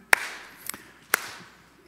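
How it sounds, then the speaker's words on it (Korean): Three sharp, separate hand claps ring out in a Korean church service. They are spaced unevenly over about a second, with quiet in between, rather than the sustained clapping of a full congregation. "박수 치면서 하겠습니다"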